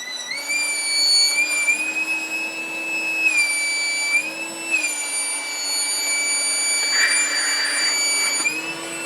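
An AstroAI tire inflator air compressor blowing out air, a loud, steady high whine with strong tonal harmonics and small pitch dips, close up and continuous, with no speech.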